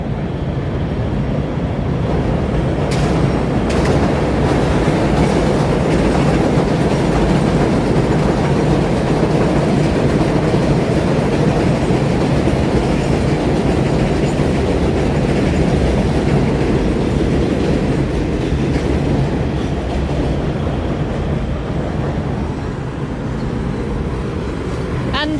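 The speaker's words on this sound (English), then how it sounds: "It's way too noisy because so many trains here." Trains pass through Long Island City, Queens, making a loud, steady rumble with rolling wheel clatter and occasional squeals, continuous throughout, with voices faintly audible underneath.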